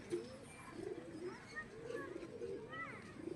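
Pet pigeons cooing softly and repeatedly in a home loft, faint low murmuring calls under a steady background hiss, with a person talking over them.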